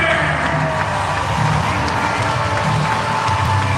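A hockey arena crowd of about 3,000 roars and cheers continuously, a dense, loud wall of voices and clapping with no pause.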